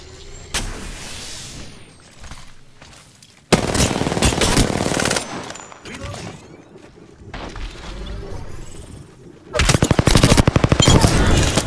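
Loud automatic weapon fire in the Apex Legends battle royale shooter, with several sustained rapid bursts separated by brief gaps and softer in-game clatter between them.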